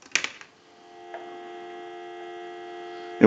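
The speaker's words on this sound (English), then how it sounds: "So we'll go ahead and give you some dial tone." Telephone dial tone on the line of a wood wall telephone, a steady, even hum holding after a few brief clicks, fairly quiet with no talking.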